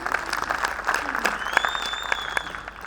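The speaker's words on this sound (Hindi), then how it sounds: "एक बार तालियां बजा दीजिए।" An audience at a Hindi poetry recitation event in Indore claps steadily throughout as sustained applause, with a voice speaking over it.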